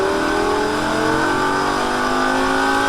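A Lamborghini Gallardo howls at full throttle on a Las Vegas track, its loud engine note climbing steadily and continuously with no pauses.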